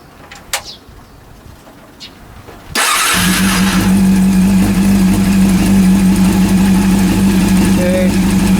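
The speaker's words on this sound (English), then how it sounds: "And start the engine and leave it about 10 minutes." A rebuilt Honda CB400 motorcycle engine fires up indoors after a few quiet seconds with faint clicks, then settles into a loud, close, steady idle with an even low hum.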